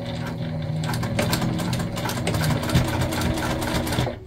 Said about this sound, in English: All right, we're just gonna sew this on.